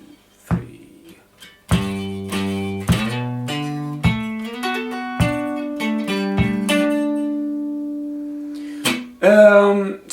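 A guitar plays the intro of a song, a slow, sparse phrase of plucked notes that ring and sustain into one another, ending with a brief strummed chord.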